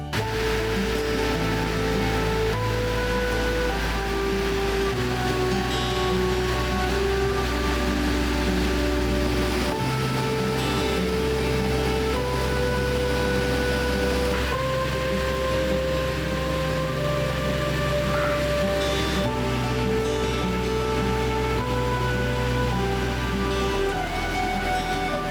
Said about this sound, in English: What an awesome waterfall.